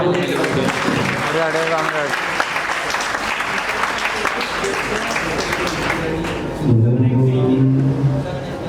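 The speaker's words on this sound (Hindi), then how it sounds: "एक जोरदार तालियां।" At a Chamber of Industries and Services event in Saharanpur, an audience claps in a dense, sustained round of applause, with a voice speaking over it at the start and again near the end.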